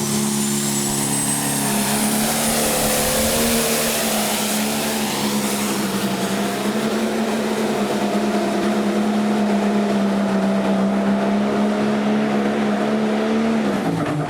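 Pro stock pulling tractor roaring at full power during a pull at a pulling event, a loud sustained engine drone with a high whine early on, steady for over ten seconds without talk.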